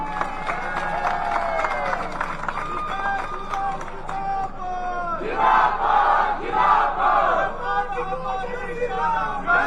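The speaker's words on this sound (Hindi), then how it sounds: "जरा 2 ताली अपने लिए बजाओ।" A large crowd at an Anurag political rally in Hamirpur cheers and shouts in loud surging waves, with chant-like calls and some clapping mixed in.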